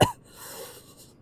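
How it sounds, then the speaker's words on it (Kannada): A single sharp cough bursts out at the start, followed by a quiet breathy tail, heard from a rider touring the hills of Munnar, Kerala. "ಸ್ವಲ್ಪ ಕೆಮ್ಮು"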